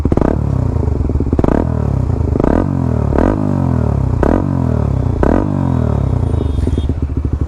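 Suzuki GSX-R 150 motorcycle fitted with a Scorpion exhaust with its dB killer removed, revving hard in repeated blips about once a second over a rough, loud idle, close by.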